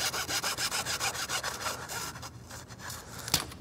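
A wooden dowel is cut by hand with a saw, giving a rapid run of rasping back-and-forth strokes, close and rhythmic, that slows and stops, followed by a brief knock.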